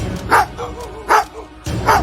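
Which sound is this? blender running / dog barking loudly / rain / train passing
dog barking loudly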